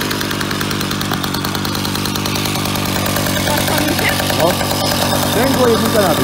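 A Komar 2350 moped's small two-stroke engine runs close by, a loud, rapid, buzzing putter that holds steady throughout, with people talking over it toward the end.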